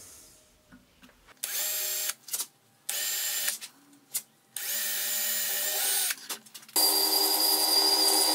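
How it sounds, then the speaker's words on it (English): A power drill whines in several bursts with short pauses between, drilling a string hole in a wooden spinning top, ending in one longer, steady run. "Now let's drill the hole for the string."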